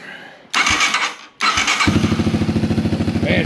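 A Yamaha YTM225DX ATV engine cranks in two bursts, then catches and runs with a steady, rapid pulsing idle, loud and close, with no voices over it.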